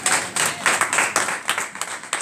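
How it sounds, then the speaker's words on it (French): A church congregation claps during a bilingual worship service, an uneven, rhythmic patter of hands that pulses in loose waves, fairly close and lively, with no talk over it. "Applaudissons pour la parole."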